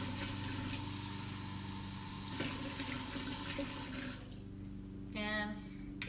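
Water runs steadily from a tap into a pot holding rice being prepared for kimbap, a constant rushing stream that eases off near the end.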